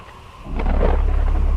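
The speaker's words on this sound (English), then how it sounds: "I hear thunder, cracking" Thunder in a storm, silent at first and then a deep loud rumbling crack that rolls on and holds, heavy and close, with no voices.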